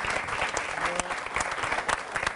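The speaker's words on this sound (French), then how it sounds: "sous vos applaudissements" Audience applause welcoming a guest at a talk on how music is produced today, continuous crowd clapping with sharp individual claps standing out throughout.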